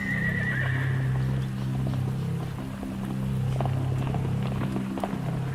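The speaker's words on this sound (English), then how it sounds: "How the fuck do we have a horse in there?" Horse neighing and clip-clopping hooves inside a song, a shrill whinny at the opening over a steady beat, then hoofbeats running along with the music, loud and continuous.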